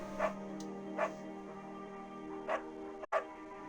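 A beagle barks in the video game Firewatch, four short, separated woofs spaced about a second apart over a steady humming game background.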